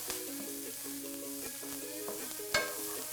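A spoon stirs chili powder into onions sautéing in a pan, with a soft continuous sizzle and a few light scrapes and one sharper knock against the pan.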